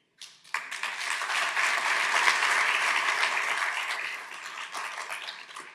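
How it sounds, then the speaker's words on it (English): A burst of applause from a crowd at a public meeting on street safety breaks out sharply, swells into dense, sustained clapping, then eases slightly toward the end. "This is the most applause that I have got"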